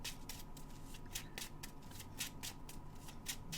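A deck of cards is shuffled during an online tournament game, a steady run of quick riffling ripples repeating at a regular rhythm, close and fairly quiet with no talking.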